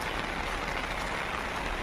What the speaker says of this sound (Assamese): আজি বৰষুণ পৰি আছে যিহেতুকে কালিৰ পৰা নেৰা নেপেৰা বৰষুণ